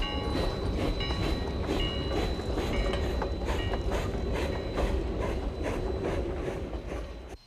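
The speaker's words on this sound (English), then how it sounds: "Here the veteran steamer pulls a special Hooterville Cannonball train into the station" An 1891 Rogers steam locomotive, a century-old steamer, pulls a special train into a station during centennial celebrations. The heavy rolling rumble and clanking of the rail cars stay loud and steady throughout, then ease off at the end.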